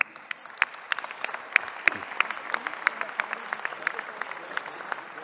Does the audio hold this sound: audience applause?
yes